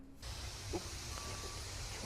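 A garden hose spraying water gives a steady, broad hiss that starts abruptly and runs on evenly at moderate loudness, with faint background noise.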